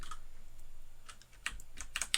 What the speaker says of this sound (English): I don't know why it's so difficult typing out vector3.